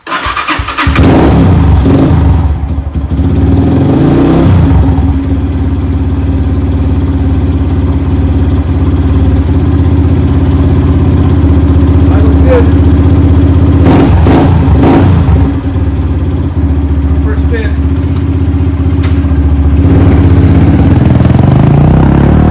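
Honda CRF230F dirt bike with a freshly tuned carburetor: the engine cranks and catches, revs briefly a few times, then settles into a steady, loud, close idle with occasional blips of throttle, and no talking.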